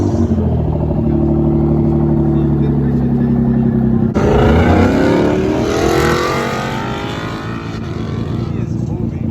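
At a car meet, an idling engine rumbles steadily before a car suddenly roars off, revving loudly through rising gears as it pulls away and fades into the distance.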